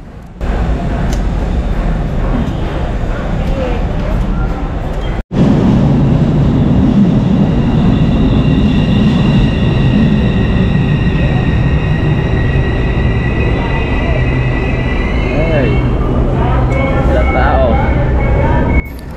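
Riding aboard an LRT light rail train, a loud steady rumble of wheels on track with a droning hum and rising high-pitched whine as it moves, continuous and close throughout.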